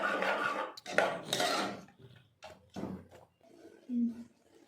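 A spoon stirs yogurt in a metal pot, making several close scraping and clinking bursts separated by short pauses. Faint speech comes in between them.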